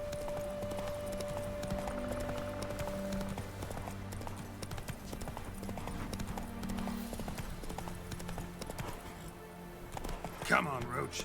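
Hoofbeats of Roach the horse in The Witcher 3 clop along in a steady, continuous rhythm beneath a sustained musical tone and a game soundscape, with a brief louder burst near the end.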